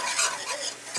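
A spoon works gravy made with pork roast juices around a pan, giving one second of close, steady wet scraping and stirring with a faint sizzle, no voices.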